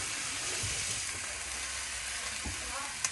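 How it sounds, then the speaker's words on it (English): Chicken frying for biryani in a Saladmaster pan, a continuous close sizzle and hiss with faint low thumps, no one speaking. "So fry the chicken for 15 minutes."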